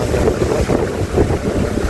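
Strong wind at a village below a mountain slope roars and buffets the microphone in continuous low gusts, loud and close, with no other sound standing out.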